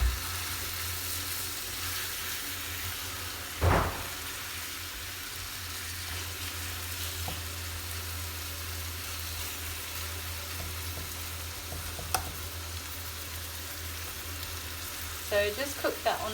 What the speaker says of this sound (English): we're going to try and cook them one side first